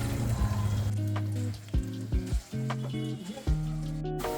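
Street-style chicken pakoda crackles and sizzles in hot oil, a steady close frying hiss with occasional bubbling pops and brief stirring noises, no talking.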